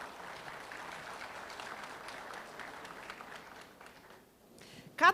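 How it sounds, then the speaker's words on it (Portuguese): Audience at a panel on digital transformation in steel construction applauding the guests, a steady even clapping that fills most of the moment at moderate loudness, fading toward the end before a brief louder burst. "Vamos aplaudir os nossos convidados"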